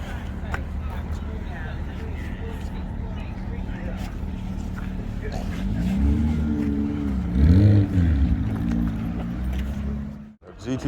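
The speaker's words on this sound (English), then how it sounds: "Got a Cobra right here." A Shelby Cobra sports car rolls past at an exotic car festival, its engine rumble swelling to a throaty rev midway before fading, over steady crowd and traffic noise with people talking nearby.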